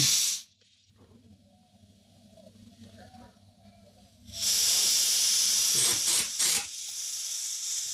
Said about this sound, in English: Compressed air trick.